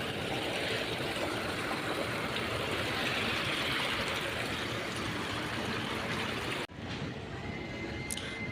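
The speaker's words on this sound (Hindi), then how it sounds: "ये जो पानी की आवाज़ आ रही है ना, मुझे और अट्रैक्ट कर रही है मेरी प्यास को" Flowing water from a stream or small cascade, a steady broadband rush that runs continuously and close, with a brief dip near the end before the flow resumes.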